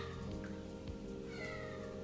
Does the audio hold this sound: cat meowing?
yes